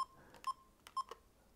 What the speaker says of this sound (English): When you navigate the menus, it has this beeping,